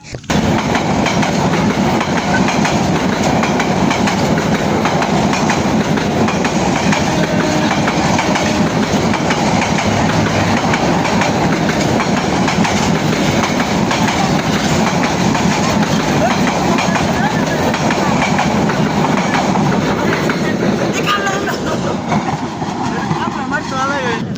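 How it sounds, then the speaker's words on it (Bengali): A train passes close by in a rural village setting, a loud continuous rumble with steady clickety-clack of wheels on rails lasting throughout, with people talking faintly under it. "ট্রেন কিন্তু ওই দেখছেন ট্রেন কাছে এসে পড়ছে"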